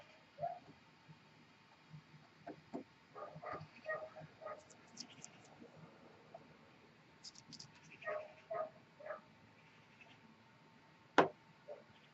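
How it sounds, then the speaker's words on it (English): Several dogs outdoors bark and yip in scattered short bursts, faint and distant, as if heard through an open window, over a quiet background. "Those dogs know when I'm painting with the window open."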